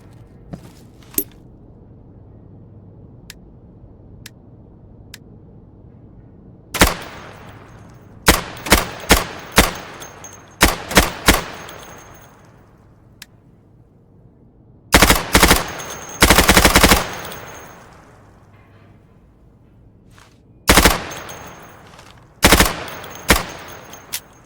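Gunfire at targets through plywood in the Insurgency video game: sharp single shots and rapid automatic bursts arrive in clusters, loud and close, with quiet gaps between them.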